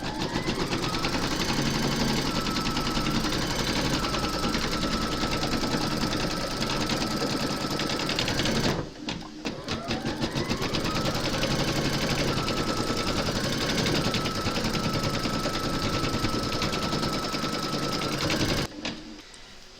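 An embroidery machine stitches fabric held in a hoop with a fast, continuous mechanical rattle, pausing briefly midway before the steady buzzing resumes, close and loud, with no voices.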